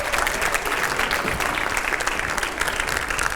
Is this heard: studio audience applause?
yes